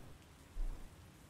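Heavy rain falls outside, a soft, low rushing wash with a brief deeper rumble partway through, faint and distant, with no one talking.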